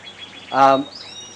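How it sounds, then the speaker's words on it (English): A pied cock bird in an aviary gives one short, loud chirping call close by, with faint background chatter from other birds before and after. "It's a pied cock bird."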